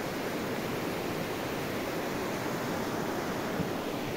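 The Sumpul river flows over a rocky bed at the Honduras border, a steady, dense rushing wash of water that holds an even level throughout with no talk.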